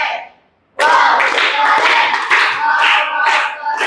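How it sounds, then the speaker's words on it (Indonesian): Clapping from a group of people in a classroom or workshop setting breaks out after a short pause, a dense, steady patter of many hands that continues loudly to the end. "Tepuk tangan."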